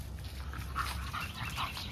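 A 4-month-old teacup bully puppy makes small whimpers and yips, a few short close cries over a low background murmur.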